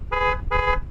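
A Bentley Continental's high-pitched, slightly clown-like horn gives two short, bright toots in quick succession, loud and close, with no talking.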